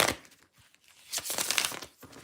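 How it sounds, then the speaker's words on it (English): A deck of cards being shuffled, two quick riffling bursts of crisp flutter separated by a short pause, close and clear with no talking. "That was actually a really satisfying shuffle."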